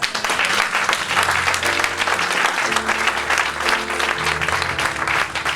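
A church congregation claps in loud, sustained applause, with sustained tones from an instrument or voices carrying underneath.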